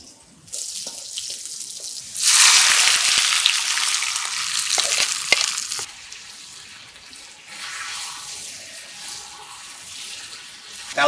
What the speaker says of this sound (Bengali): এখন আমি উঠাইয়া সরষের তেল দিয়া বাগার দেব।